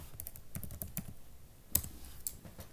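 Quick keypresses tapped out on a calculator while solving an equation with decimals and fractions, a run of light, close clicks in an uneven rhythm with a sharper cluster partway through, no talking.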